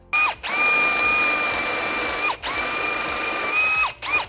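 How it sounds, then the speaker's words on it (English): A power drill whines at a steady high pitch in two long bursts, stopping briefly between them, close and loud. "let's drill a hole in something"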